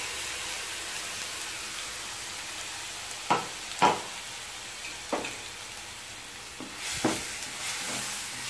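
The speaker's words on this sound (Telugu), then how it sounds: "ఇది ఆపకుండా 1 నిమిషం పాటు ఇలా ఫ్రై చేయాలి" Onion chutney with ground onion paste frying in a pan, a soft steady sizzle with a few sharp scraping stirs of a spoon against the pan, fairly quiet and close.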